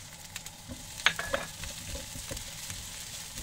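Garlic frying in a pan for a chicken curry made with Japanese curry paste cubes gives a soft, steady sizzle with a few light clinks of a utensil against the pan. It stays fairly quiet and close, with no talking.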